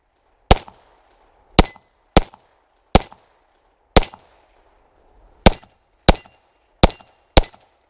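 A Walther P22 pistol fires ten rounds of .22 ammunition, sharp loud cracks spaced irregularly about a half second to a second apart, each followed by a short echo, with no talking.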